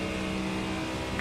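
A GT3 race car engine in the iRacing simulator holds a steady, loud drone with strong harmonic bands throughout, a continuous sustained note with no talk over it.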